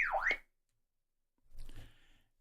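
A UV 28 Plus two-way radio sounds its alarm: a loud swooping electronic siren tone, cut off after a moment, then a quieter burst of noise follows.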